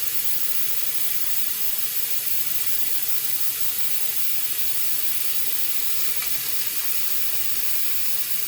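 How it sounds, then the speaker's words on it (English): A continuous, forceful hiss of steam escaping from a pressure cooker, steady and fairly loud from start to finish with no voices over it. "take that steam off"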